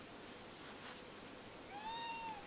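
A cat gives a single faint, rising-and-falling meow over steady background hiss, the rest of the moment quiet.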